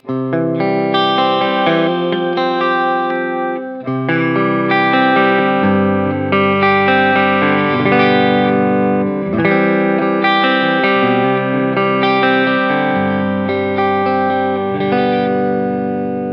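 A clean electric guitar through a Two Notes Le Clean preamp, no amp, plays sustained chords with shimmering reverb and chorus, bright and loud, changing every couple of seconds with no voices.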